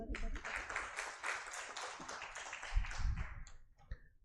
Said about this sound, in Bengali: আমরা কি প্রত্যেকে নিজেদের জন্য একটা করতালি দিতে পারি